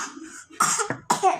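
A short burst of coughing, close and moderately loud, with two or three rough coughs in quick succession and a throat-clearing quality.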